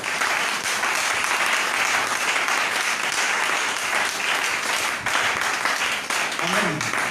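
A church congregation breaks into sustained applause, dense, even clapping from many hands filling the room from start to finish.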